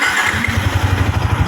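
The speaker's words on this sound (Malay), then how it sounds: "Kalau kita try start lah, kita start. Korang dengar bunyi belah clutch ni macam mana?" A Yamaha Y16ZR motorcycle with about 220,000 km on it starts and settles into a steady, loud, close idle with an even low pulsing throb and a rattly clutch-side tone.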